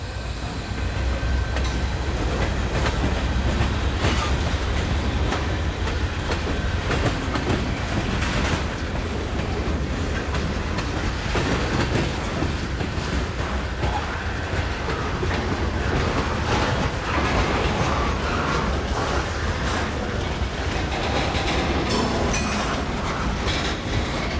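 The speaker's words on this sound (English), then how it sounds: "Union Pacific detour train." A Union Pacific freight train on a detour rolls past on the Iowa Northern line near Cedar Falls Junction, with a continuous loud rumble, rhythmic clickety-clack of wheels over rail joints and occasional squeals.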